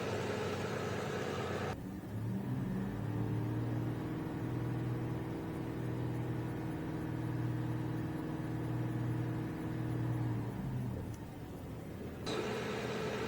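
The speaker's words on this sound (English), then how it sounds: "Now it wants me to increase the RPMs to 2500 for 5 seconds" A car engine revs up to a steady 2500 RPM during a battery and charging test, holding a smooth, sustained mid-pitched drone for about ten seconds before dropping back to idle.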